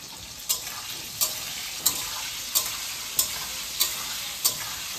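Potatoes frying in a pan with a little salt and turmeric: a steady close sizzle broken by seven evenly spaced scrapes of stirring, roughly one every two-thirds of a second.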